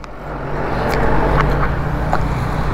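Yamaha R15 motorcycle pulling away on a road, a steady close engine drone with a low hum rising slightly as it gets moving, continuous and fairly loud with no talk.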